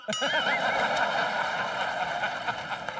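A loud, long horse neigh on a comedy show stage, a wavering whinny that rings out continuously for about three seconds with no talk over it.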